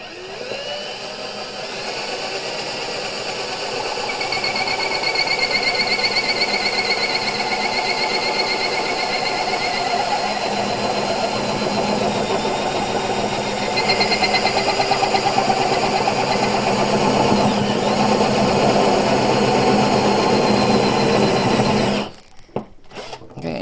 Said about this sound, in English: I'm going to go ahead and start drilling this hole now. This is a spade bit.